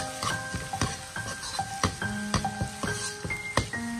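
Ginger, garlic and chilies stir-fry in oil in a wok over medium-low heat, and a spatula scrapes and knocks against the metal in a quick, uneven rhythm over a constant sizzle.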